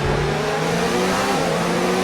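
A Formula 1 car engine in the F1 2019 racing game holds a loud, steady high-pitched revving drone throughout, continuous and close with no talking.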